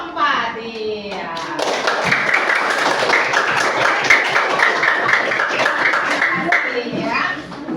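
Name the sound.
classroom applause for group 4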